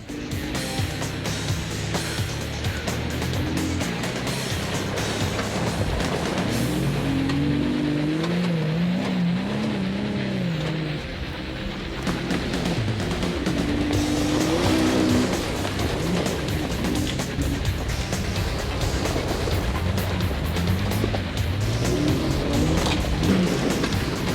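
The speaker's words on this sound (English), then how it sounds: "it's time to pick up the pace a little bit and see how this Jeep does and how it handles at a higher rate of speed" A 2005 Jeep Wrangler Unlimited driven fast off-road, its engine roaring steadily with rising revs and bumpy, rumbling surges throughout, loud and close with no talk.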